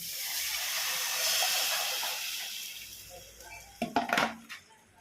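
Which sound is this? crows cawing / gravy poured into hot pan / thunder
gravy poured into hot pan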